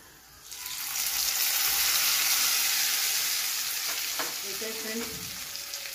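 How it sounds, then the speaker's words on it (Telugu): A hot tempering is poured into a bowl of drumstick leaf dal. After a quiet start it breaks into a loud burst of sizzling that slowly fades, with a few soft clinks near the end and no one speaking. "తాలింపు అయిపోయింది, ఇంకా పప్పులోకి వేసేసుకుందాం"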